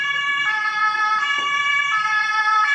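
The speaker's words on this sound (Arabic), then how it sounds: "بوليس اهو، ديت شكل عربيه البوليس." Swiss police car siren wailing continuously in a steady two-tone pattern, close and loud over faint street traffic, with no voices.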